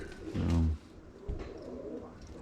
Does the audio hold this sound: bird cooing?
yes